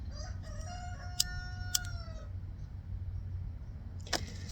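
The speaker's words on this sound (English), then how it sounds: "Oh, that's a chicken, by the way" A rooster crows outdoors on a small homestead with a garden, a single drawn-out call rising and falling over steady low background rumble, followed by a couple of sharp knocks.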